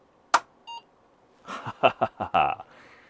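A sharp click, then a short electronic beep with a clear pitched tone from a woodgrained Apple II computer, followed by someone speaking briefly nearby.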